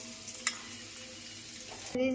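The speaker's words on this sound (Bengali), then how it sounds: "ছোলাটা মোটামুটি ভাজা হয়ে গেছে" Chickpeas frying in a pan in a home kitchen give a low, steady sizzle with an occasional light clink of the spatula, closing on a brief louder scrape, close and without speech.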